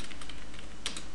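Computer keyboard keys clatter in a quick irregular run of close taps while text is typed into a Microsoft Word 2010 footer, with a sharper keystroke near the end.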